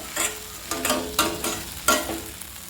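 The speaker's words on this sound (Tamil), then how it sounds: "அது கூட போட்டு நல்லா மிக்ஸ் பண்ணணும்" Okra stir-fry with salt and pepper is stirred in a pan: five rhythmic scraping, sizzling strokes about half a second apart, close and moderately loud, with no voices.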